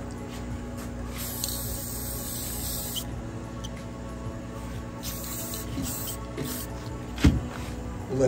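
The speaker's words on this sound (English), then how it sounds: "Now we're gonna hit it with some black spray paint to keep it from rusting." Black spray paint hisses from an aerosol can onto a metal amp rack for a 2015–2023 Harley-Davidson Road Glide, in steady bursts that start and stop, close by and moderately loud with no talking.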